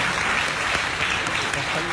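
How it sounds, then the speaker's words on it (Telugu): A crowd applauds the EMJAT associate schools at an education gathering, with steady, dense clapping that carries at an even level for the whole stretch. "ఒకసారి EMJAT అసోసియేట్ స్కూల్స్ అందరూ ఒకసారి చప్పట్లతో వారిని మనం అభినందిద్దాం"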